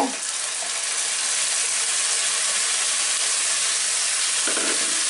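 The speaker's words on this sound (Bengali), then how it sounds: "আদা রসুন দেওয়ার সাথে সাথে একটু ছিটাছিটি শুরু করে" Ginger and garlic frying in hot oil for a Punjabi dhaba-style matar masala, giving a loud, steady, continuous sizzle and hiss with fine spluttering throughout, and no talk.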